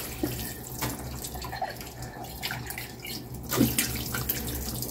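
A kitchen tap runs steadily while glass dishes are rinsed in the sink, with close splashing water and faint clinks of glass throughout.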